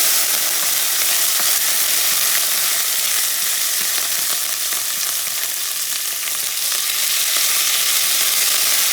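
Rice with Vienna sausages, cooked Puerto Rican style, sizzles loudly and steadily in a pan while being stirred, a dense continuous frying crackle with faint scraping throughout and no voices.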